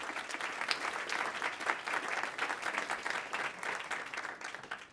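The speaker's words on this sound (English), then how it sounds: "So give a round of applause to Google and every other innovator in here." Sustained applause from a conference audience at a medical technology event, dense steady clapping for about five seconds that fades out at the end.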